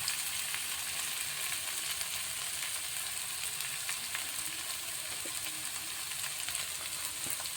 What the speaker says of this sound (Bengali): আদা রসুন পেঁয়াজ কষিয়ে নেওয়া হচ্ছে ভালো করে